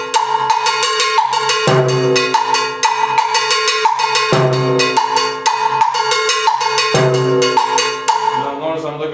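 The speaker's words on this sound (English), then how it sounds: "you can choose to play clave, and playing the second note of clave, which we call bombo, on the low drum of the timbal" Timbales played in a clave pattern, with the second clave note struck as a bombo on the low drum of the timbal, alongside a bright repeating bell. The rhythm is loud, close and steady, with no voices.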